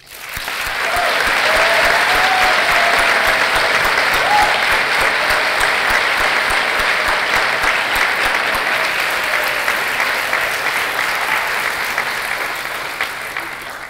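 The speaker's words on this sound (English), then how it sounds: "please join me in a hearty round of applause" A hearty, sustained round of applause from a midyear completion celebration audience, dense and steady clapping holding loud for over ten seconds before easing slightly at the close.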